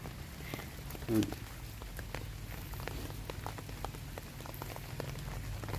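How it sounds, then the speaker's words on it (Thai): Rain falls steadily while termite mushrooms are picked outdoors, a soft continuous patter of drops under an umbrella, with quiet background sounds and speech present. "ฝนตกนะครับท่านผู้ชมต้องกางร่ม ผมเองก็ต้องกางร่มนะครับ"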